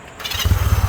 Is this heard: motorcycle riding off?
yes